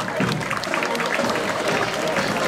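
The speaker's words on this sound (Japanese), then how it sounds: "どうぞ今一度拍手をお願いいたします" Festival crowd applauding outdoors at a ward festival, a steady continuous wash of clapping throughout, with some crowd noise mixed in.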